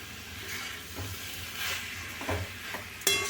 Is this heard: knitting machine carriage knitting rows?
no